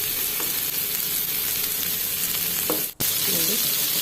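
Sardine fish frying in oil on a hot tawa gives a continuous close, crackling sizzle, steady and fairly loud, with a momentary dropout near the end and no talking.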